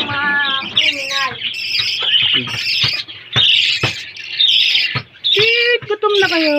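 Young hatchling birds chirp and squawk in a busy, overlapping chorus, close and loud, with rapid high calls repeating throughout and a few sharper cries.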